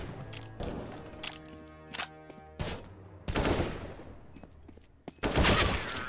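Gunfire in the video game CS:GO, with loud bursts of shots and rapid volleys cracking in succession amid ringing in-game sounds, with no talking.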